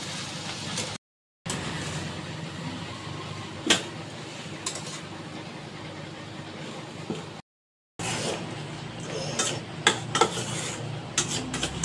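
Cooked spinach and prawns scraped and tipped out of a pan, with metal spoon scrapes and clatters against cookware continuing steadily for several seconds, broken by two brief silent gaps.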